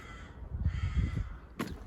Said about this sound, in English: The crows are near Mozart.